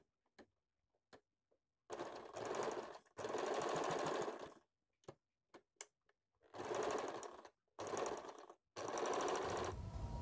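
A picot sewing machine stitches the edge of fabric for a women's top in several loud bursts of steady, rapid whirring, separated by short pauses and faint clicks, with no voices.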